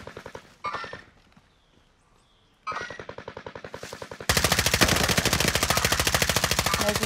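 Gunfire in Call of Duty Modern Warfare Warzone: brief bursts early on, then from about four seconds a loud, continuous rapid machine-gun stream of evenly spaced shots running to the end.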